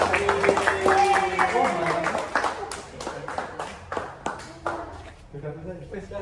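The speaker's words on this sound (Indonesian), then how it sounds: "tepuk tangan buat semuanya." A group at a communication skills training session breaks into scattered applause, brisk claps rising and thinning out while people talk over them and a voice carries on.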